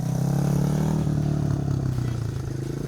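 An automatic scooter motorbike engine drones and revs steadily on a dirt track, a close, continuous buzzing hum with slight rises in pitch and some rattling clatter underneath.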